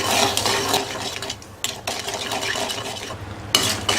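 A spoon scraping and stirring sugar syrup in a pan over a low flame while making carrot halwa, close and fairly loud, in steady repeated strokes with short pauses between them.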